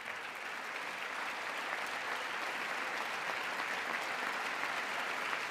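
Steady, dense applause from a large audience at a political speech, a continuous wash of clapping at even loudness throughout with no voices over it.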